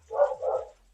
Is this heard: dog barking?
yes